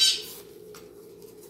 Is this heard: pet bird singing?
yes